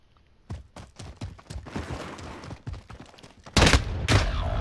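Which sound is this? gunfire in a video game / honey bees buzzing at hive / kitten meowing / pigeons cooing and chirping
gunfire in a video game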